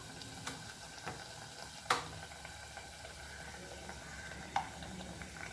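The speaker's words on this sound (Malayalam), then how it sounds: "ഓക്കെ, നമുക്ക് ഇതുപോലെ ബാക്കിയുള്ളതൊക്കെ ഇതുപോലെ ഫ്രൈ ചെയ്തെടുക്കാം." Breadfruit fritters sizzle in hot oil with a steady soft bubbling hiss and a few sharp pops and clinks scattered through it.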